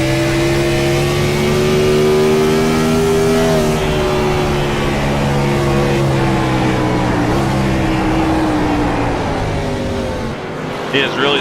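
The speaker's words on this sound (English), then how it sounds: "He is really scrubbing them tires, you can hear it." Race car engine in the Grid racing video game screams at steady high revs with shifting harmonic pitch, tires scrubbing underneath during a race for the lead, loud and continuous throughout, with commentary talk over it.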